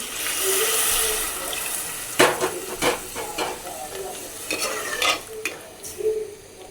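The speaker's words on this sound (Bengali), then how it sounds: "চাল ভাজা হয়ে গেছে পানি দিয়ে দিতেছি" Water splashes into a hot pan of frying rice for pulao, with hissing and stirring scrapes in short bursts, close and fairly loud.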